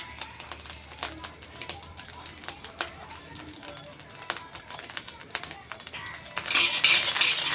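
Chicken fried rice being stirred and fried in a pan, street-style, with steady scraping clinks of a spatula against metal and a rising sizzle near the end, under a speaking voice.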